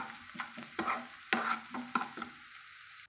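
Onion with turmeric frying in a pan for egg podimas, a soft sizzle under a few scraping strokes of the spatula, fairly close and gentle, ending in a steady hiss.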